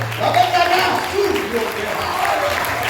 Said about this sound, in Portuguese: Só quem crê dá uma linda salva de palmas